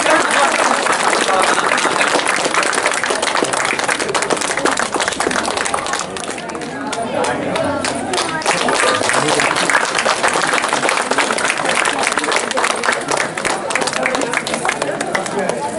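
An audience at a temple festival for the Karthika month lamp celebration at a Sri Seetharama temple claps loudly and steadily for several seconds, a dense crowd applause that dips briefly midway before swelling again.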